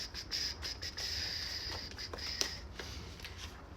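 Oracle cards being shuffled by hand, a quick series of soft riffling flicks and taps, close and fairly quiet, with no speech.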